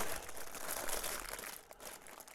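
Continuous crinkly rustling of a plastic parcel bag from an AliExpress delivery being unpacked, close and fairly loud, with bursts of crackle over about two seconds; no one speaks.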